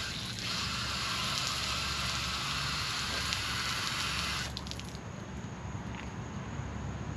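Water gushes out of a part on a 1964 Correct Craft American Skier boat during a flush-out, a loud, steady rushing spray that cuts off abruptly partway through, leaving quieter hissing.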